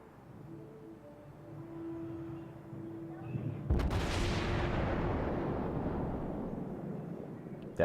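Ship guns on a Japanese navy warship fire in a naval video game: a low engine hum gives way to one heavy, close salvo, followed by a long rumbling roar that slowly fades.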